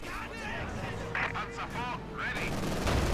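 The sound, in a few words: gunfire shooting grenadiers in Company of Heroes 2 video game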